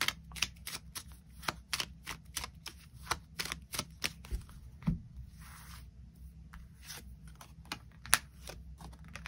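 Tarot cards are shuffled and drawn close by, producing rapid, crisp flicks and riffles with short pauses between bursts, and no talking.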